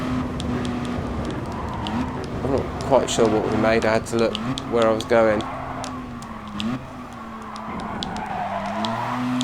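A Mazda RX7 Spirit R in GT Sport revs its rotary engine on the Nurburgring, a steady buzzing drone rising and dropping through gear changes, with brief tire squeals, under someone talking throughout.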